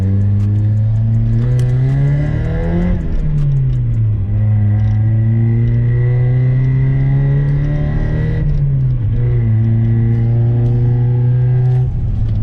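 A Mazda Miata engine drones loudly through a throaty ISR aftermarket exhaust, its pitch rising and falling as it shifts gears while driving steadily, heard from inside the cabin.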